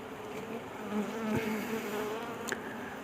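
Apis cerana honeybees hum steadily at an open hive, a soft continuous buzz with one closer bee passing briefly, no voices.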